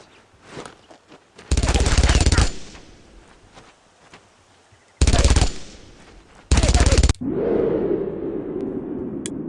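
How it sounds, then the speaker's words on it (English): MG42 machine gun fire in the World War II video game Brothers in Arms at Utah Beach: three loud, sustained rattling bursts separated by quieter gaps, the last trailing into a rumbling explosion-like wash. "Is that an MG42?"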